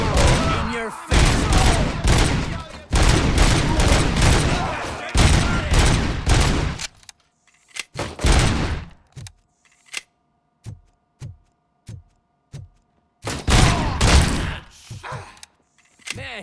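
Robocop's heavy pistol firing in a Robocop: Rogue City shootout, with loud rapid bursts for several seconds, then sparse single shots and clicks, and another burst near the end.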